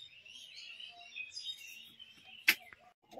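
Pigeons in a loft, a male cooing repeatedly at a hen, the soft calls close by with a sharp click or flutter midway; faint and fairly quiet with no talking.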